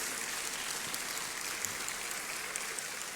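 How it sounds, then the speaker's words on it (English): Applause at a 2026 Ghana citizenship ceremony greets the Commissioner General of the Ghana Immigration Service: a dense, steady wash of clapping from a large audience, even and sustained for the whole stretch. "Shall we do a big round of applause for the Commissioner General of the Ghana Immigration Service,"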